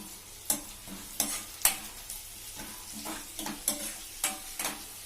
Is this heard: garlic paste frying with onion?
yes